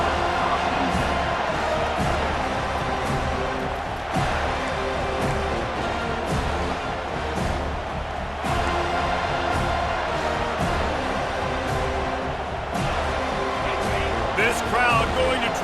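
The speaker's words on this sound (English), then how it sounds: "This crowd going to try to make life miserable for these guys." Football stadium crowd at a Texas A&M versus Florida State college game, a loud continuous roar of cheering that swells and dips, with a commentator's voice over it.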